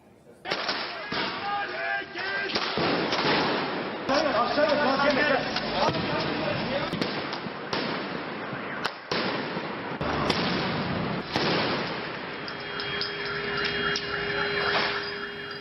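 Fireworks and firebombs burst during a street protest where Kurdish activists clash with police, with a string of sharp bangs and cracks over a noisy crowd and a voice speaking over it.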